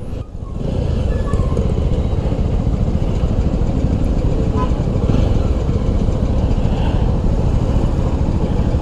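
A Jawa 300 motorcycle cruises in top gear at about fifty on a road test, its engine a steady, loud, close drone with continuous wind rush throughout.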